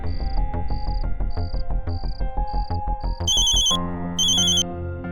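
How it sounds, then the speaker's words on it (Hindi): A telephone rings on and on with nobody picking up, its repeated electronic tone sitting above a steady, dense background of music. "फोन बज रहा है मैडम सर, मगर कोई उठा नहीं रहा है।"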